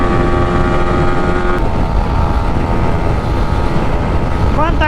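Bajaj Pulsar NS200 motorcycle roars at speed in a drag race, a loud continuous engine drone with steady harmonic whine, joined near the end by rising pitch sweeps from another passing bike.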